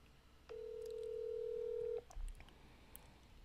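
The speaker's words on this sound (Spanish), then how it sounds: "A ver si me contesta el teléfono." A phone call is placed, with one steady tone held for about a second and a half over faint background hiss, then a short low thump.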